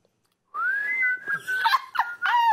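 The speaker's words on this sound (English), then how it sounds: "one is whistling" A person whistles a short, clear melodic phrase of sliding and wavering notes that is close and fairly loud and broken into several bursts after a brief silence.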